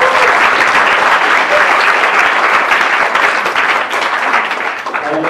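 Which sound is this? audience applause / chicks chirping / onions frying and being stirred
audience applause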